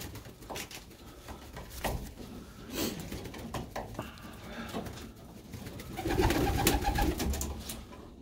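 Pigeons near weaning age coo softly and repeatedly among other bird calls, with a louder, denser stretch toward the end and faint handling noise.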